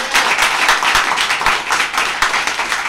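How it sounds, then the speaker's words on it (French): An audience in a hall claps for officials at a live Radio Côte d'Ivoire broadcast in Daloa, a dense, loud stretch of applause that continues without a break and has no voices over it. "Je voudrais qu'on applaudisse quelques autorités, bien sûr, dans la salle"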